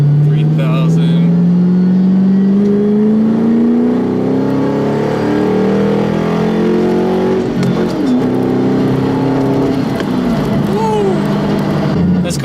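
A 2010 Mustang GT with a 4.6 V8 and a short Hurst shifter revs up in second gear, the engine note climbing steadily and loudly before easing off, with a voice talking over it.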